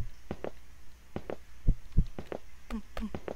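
Heartbeat in a video horror game, a few slow, heavy, muffled thumps in uneven pairs over a low hum, close and fairly quiet.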